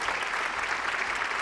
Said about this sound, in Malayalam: നന്നായിട്ടൊന്ന് കൈയടിച്ചേ